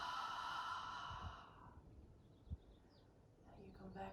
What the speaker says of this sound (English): maybe you want to do one very deep inhale and a very deep exhale